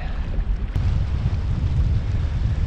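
A strong, gusty wind of 20 to 30 knots blasts across the open water by a boat, a loud, steady low roar with fluctuating buffeting and no voices.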